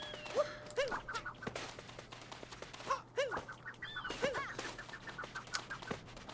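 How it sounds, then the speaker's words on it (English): Repeated chirping bird calls from a Super Mario Odyssey level, short rising-falling squawks in bursts over a steady low game hum, fairly close and moderately loud. "Hey, bird!"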